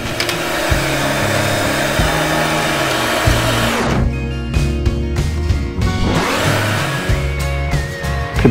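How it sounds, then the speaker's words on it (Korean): Electric mixer beating butter with white and brown sugar for chocolate chip cookie dough, a loud continuous motor whir that dips and changes pitch twice as the speed shifts, with no talking. "먼저 버터하고 흰 설탕하고 흑 설탕하고 이 믹서기에 넣는 겁니다."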